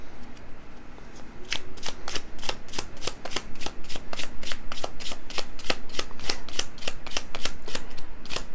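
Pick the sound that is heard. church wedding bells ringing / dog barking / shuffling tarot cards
shuffling tarot cards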